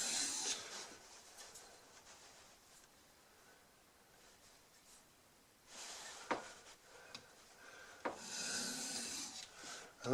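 A wood chisel end is sharpened to a steeper angle by hand, giving a steady, soft rasping and rubbing stroke that repeats up close, and it grows louder and scratchier in the later strokes.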